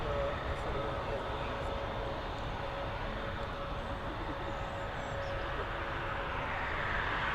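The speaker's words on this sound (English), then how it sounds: "Here she is, that beautiful Boeing 777 operated by Emirates coming in from Dubai" An Emirates Boeing 777 arriving from Dubai at Dublin Airport, a steady broadband jet engine roar holding evenly throughout, with a faint tonal whine riding over the rumble.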